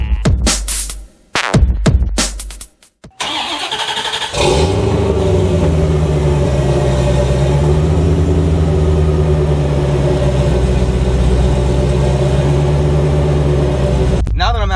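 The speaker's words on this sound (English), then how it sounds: "here to drive the car since I replaced the fuel filter" A 1991 C4 Corvette, just fitted with a new fuel filter, starts up and then runs with a loud, steady engine drone that holds close for about ten seconds. Brief clunks and shuffling come before the engine.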